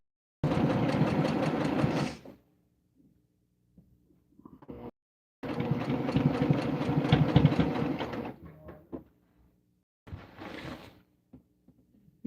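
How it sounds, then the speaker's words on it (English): A sewing machine stitches a growing quilt in two long, steady bursts of rapid mechanical whirring, separated by quiet pauses with faint handling clicks and a short third run near the end. "I wish the sewing machine was down in the cabinet."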